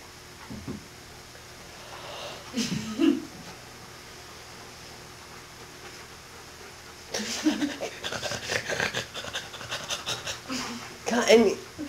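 Rapid, breathy dog panting in quick bursts, close to the microphone, with pauses between spells and some rustling.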